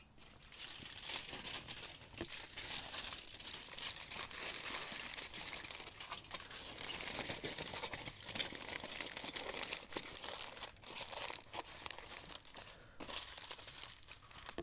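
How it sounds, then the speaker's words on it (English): Aluminium foil crinkles and crumples steadily as it is wrapped neatly around a banana stuffed with chocolate chips, a continuous close, soft rustling that runs on without pause. "we're going to take and wrap it up neatly with our foil"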